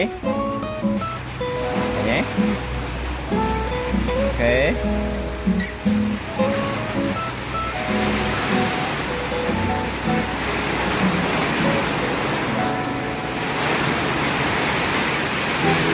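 Rain falls outdoors in a steady, broad hiss that grows fuller in the second half, while a Khmer jelly dessert is being poured and someone talks over it.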